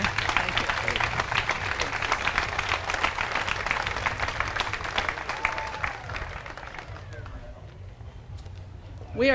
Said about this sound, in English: let's give both of these organizations a round of applause for what they're doing here